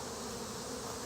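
Honeybees swarm around a leaking feeder while robbing it, a dense, steady buzzing drone heard close with no pauses.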